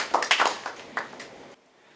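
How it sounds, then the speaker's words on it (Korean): A lecture audience gives an incoming professor a short, sparse round of clapping, a few uneven claps that fade out after about a second and a half. "박수로 맞이해 주세요."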